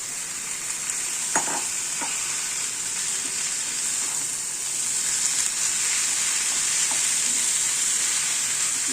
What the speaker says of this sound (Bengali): থোড়টা আমি আগে থেকে সেদ্ধ করে রেখে দিয়েছিলাম, ওইটা এবার দিয়ে দিলাম